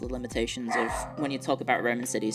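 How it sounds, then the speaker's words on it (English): A pet dog barks several times in quick yips and bow-wows close to the microphone, mixed in with a man lecturing on Roman cities who keeps talking over it. "Sorry about my dog."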